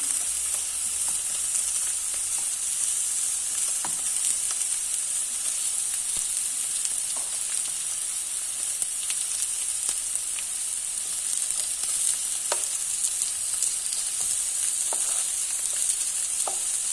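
Burger patties frying in a pan at home, a loud continuous sizzle and crackle with scattered faint pops, steady throughout with no voices.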